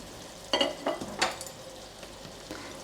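Crushed garlic goes into a pan of frying zucchini, and a few quick stirring scrapes break over a low, steady sizzle that then settles back to quiet frying.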